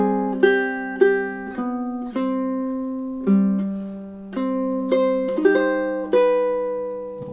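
Ukulele picking two measures of a love theme, a slow melody of clear plucked notes with chord tones, each sustained and decaying, played alone and close.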